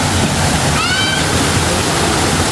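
A waterfall at a clear-water nature spot, a loud, steady roar of falling water filling the whole stretch, with a brief whistle-like call partway through.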